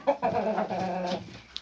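A rooster clucks in a short run of throaty, nasal calls, fairly close and moderately loud, followed by a brief quiet tail.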